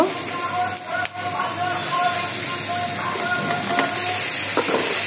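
Dried fish (shutki) frying in hot oil, a steady loud hiss and sizzle of crackling oil throughout, with brief bursts of spattering.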